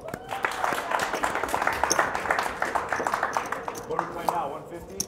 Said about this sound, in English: Give Cindy a round of applause